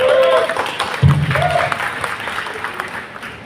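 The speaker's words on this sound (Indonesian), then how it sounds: "berikan tepuk tangan kepada 2 legendary musician kita di depan." Audience clapping at Synchronize Fest 2024 for two legendary musicians, a dense spread of applause and crowd murmur near the stage, with a voice talking over it partway through.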